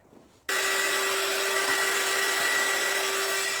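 A hair dryer switches on abruptly and blows in a steady, loud, even whoosh with a constant motor whine, drying a painted round craft sign.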